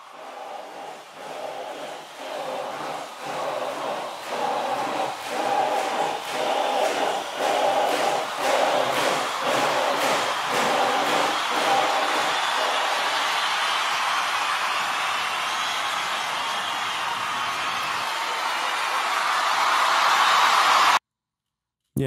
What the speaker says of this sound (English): just those three elements really make up the entire crowd sound